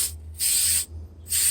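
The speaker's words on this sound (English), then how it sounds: "right now, he is spraying" Spray gun coating a primed frame with metallic blue glitter paint: two steady bursts of airy hiss, each about half a second long, separated by short pauses over a low background hum.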